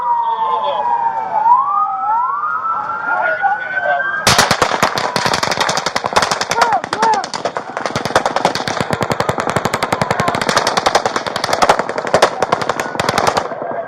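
A police siren wails at first, then sudden rapid gunfire breaks out during a shooting on a Las Vegas boulevard. Dense bursts of loud shots keep going nonstop, with the siren and shouting voices underneath.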